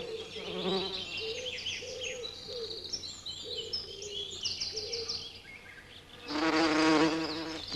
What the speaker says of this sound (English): lures bees to the bottom thimbles first to make sure all are visited in turn